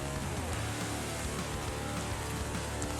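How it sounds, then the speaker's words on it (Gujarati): Light rain falls steadily and softly outdoors, a continuous even patter with no voices. "ધીરો ધીરો ચાલુ છે વરસાદ, આમાં દેખાતું છે તમને."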